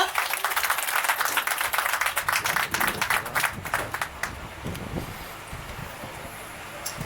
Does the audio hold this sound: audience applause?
yes